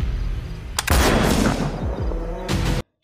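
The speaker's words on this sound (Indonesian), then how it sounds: "Inilah saat-saat menegangkan dengan penuh peluru yang dikeluarkan antara Seksoy dan Ujang" Dense gunfire fills a sniper film's firefight, with sustained rapid bursts and overlapping shots roaring loudly and continuously before cutting off abruptly.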